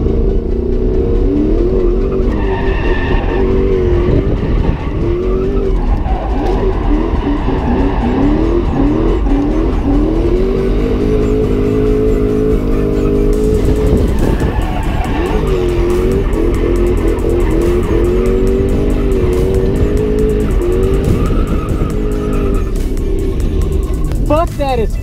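A car drifts at the Midwest Ripfest 2018 drift event, engine revving up and down in loud repeated surges with tires squealing and skidding through the slides, continuous and close throughout.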